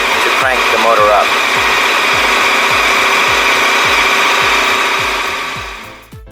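A 2021 KTM 1290 Super Adventure S motorcycle engine idles steadily right after starting, a loud, close, even rumble with regular low pulses that holds for several seconds before dropping off abruptly at the end.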